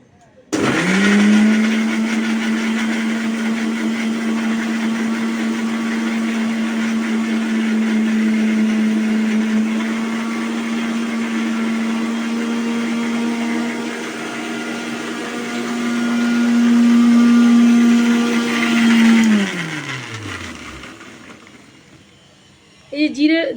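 An electric mixer grinder whirring as it grinds cumin and green chilies into a spice paste, a loud steady motor whine that rises slightly in pitch before spinning down, with a brief clatter at the end.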